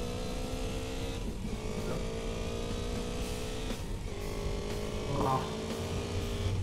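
Car driving in the video game GTA San Andreas, a continuous engine drone with repeated rising and falling revs as gears shift, steady and fairly close with no speech.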